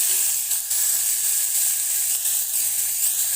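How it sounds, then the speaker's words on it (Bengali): Onion and garlic frying in a pan, a steady bright sizzle that stays loud and even throughout, with no voices over it. "আমার কিন্তু পেঁয়াজটা লাল লাল করে ভাজা হয়ে গেছে, আর রসুনটাও আমি ভেজে নিয়েছি"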